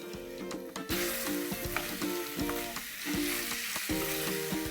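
Medium pieces of raw mango are stirred and fried in spice masala in a pan, a loud close sizzle with regular scraping strokes, backed by sustained musical tones.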